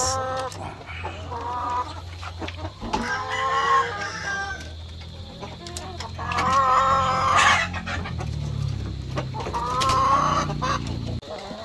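Hens in a nest box cluck and squawk close by in bursts, with excited rising calls and soft rustling between them, with no one speaking.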